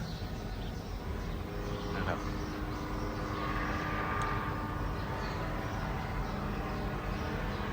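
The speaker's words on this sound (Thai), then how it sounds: "เครื่องบินซีดยาพัก" A crop-spraying airplane flies over a giant pumpkin field, making a steady, moderately distant engine drone across the whole stretch, with a faint voice beneath it.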